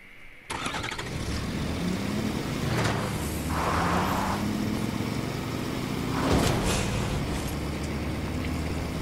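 A car engine in Fortnite cranks to life, then settles into a mid-pitched idle that swells with revs, loud and close with no talking.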